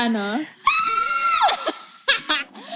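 A woman imitates her own horror-movie-style scream, a high shrill wail held for about a second among laughing, excited voices.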